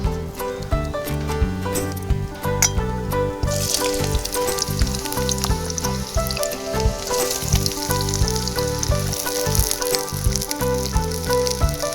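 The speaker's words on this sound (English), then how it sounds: "And see, already the pot is hot. So I'm going to add the onions." Roughly chopped onions hit a hot pot and fry with a bright, steady sizzle that swells after a few seconds, under continuous background music with tonal notes.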